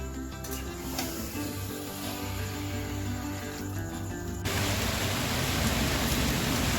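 Heavy rain pours steadily outside, a dense broadband wash that thickens and grows louder partway through, with a low background drone beneath it.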